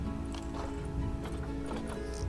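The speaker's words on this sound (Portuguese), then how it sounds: "Cavalo de Przewalski." Hooves clip-clop and a short whinny come from a Przewalski's horse in the zoo game Planet Zoo. Close, irregular hoof beats continue over a steady background, with no talking.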